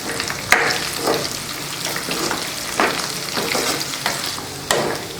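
Chicken deep frying in a pan sizzles constantly while a spoon stirs it, and several sharper scraping knocks punctuate the close, steady crackle.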